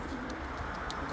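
A racing pigeon returning to its loft after a 390 km sea-crossing race gives a few soft coos, close by over a steady background hum.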